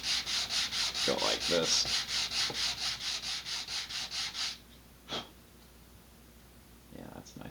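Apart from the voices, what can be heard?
sanding laser-cut wood with sandpaper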